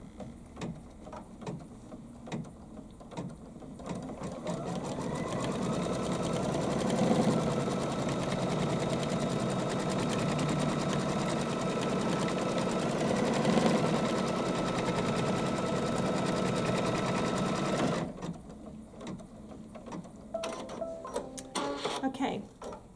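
An embroidery sewing machine stitches fabric in place for a Kimberbell appliqué project, a steady rapid mechanical whirring and ticking held for about thirteen seconds, with a voice briefly before and after.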